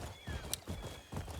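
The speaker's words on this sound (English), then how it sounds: "Let's get my horse that magically teleports." A horse summoned in the video game Crimson Desert, hooves clip-clopping at a steady trot at moderate distance, with a faint neigh, fairly quiet and alone.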